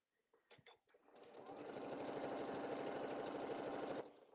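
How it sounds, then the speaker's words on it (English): After a few clicks, a sewing machine stitches a quarter-inch quilting seam in one steady, close, continuous whir lasting about three seconds, then stops, with no talking. "we're going to stitch this 1/4 inch from the edge"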